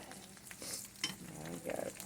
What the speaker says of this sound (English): Get this fried crispy. I like mine a little crispy.